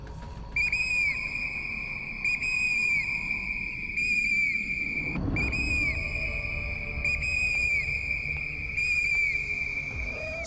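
Loud, sustained shrill whistles in repeated long blasts carry over a steady chorus of crickets and insects in a forest zone where bears, leopards and hyenas roam, with a brief rustling break midway.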